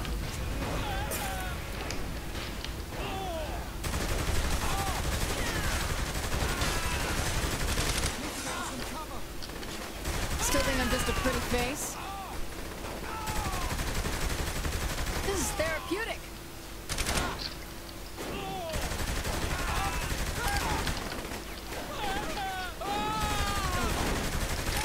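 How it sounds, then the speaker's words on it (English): Gunfire in Saints Row: The Third, dense rapid bursts of shooting that keep going with brief pauses. Shots land close and loud over busy game sound, and a voice talks over parts of it. "They're shooting each other."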